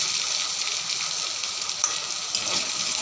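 Sliced potatoes fry in a pan, producing a bright, steady hiss of sizzling oil close by with small crackles, and no voices.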